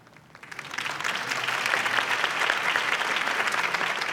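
A crowd in the Batman Telltale video game breaks into applause after Harvey Dent's campaign speech, swelling up quickly from near quiet into a steady, full wash of clapping with no talk.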